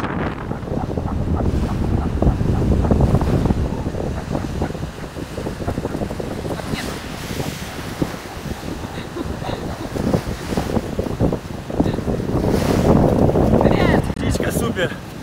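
Steady roar of wind buffeting the microphone over surging Atlantic-style ocean surf, loud and continuous, with brief voices in the background.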